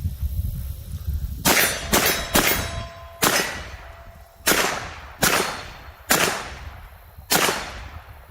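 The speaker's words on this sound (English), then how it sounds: "we'll send a few rounds here from about 20." Shots from a 9mm carbine at about 20 yards, each followed by a bright metallic ring off steel targets including a swinging head plate; eight sharp reports in a steady cadence, loud and clear with no talk.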